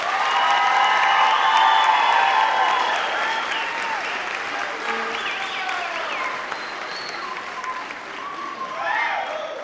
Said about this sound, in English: Clap, applaud, show them how much you are loved.